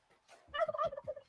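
A single turkey gobbles in a short rattling burst of rapid throaty pulses, fairly close and alone, with no talk over it.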